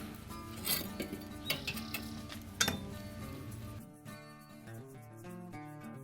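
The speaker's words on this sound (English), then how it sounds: "I'm just going to place it directly onto the grill grate" Pork tenderloin sliders set directly onto a smoker grill grate give a few light metallic clinks and taps in the first three seconds, over a steady tonal background that continues after.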